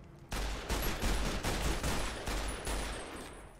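Dense, continuous gunfire in the video game Fallout New Vegas at the Hoover Dam, loud and close with rapid overlapping shots and bursts filling the whole stretch, no talking.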